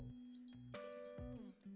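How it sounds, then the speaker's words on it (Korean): A HaloCode-built anti-theft alarm sounds a series of electronic beeps, steady pitched tones switching on and off in quick succession, fairly clear and close. "물건이 없어지면 밝아지기 때문에 경보음이 울리고"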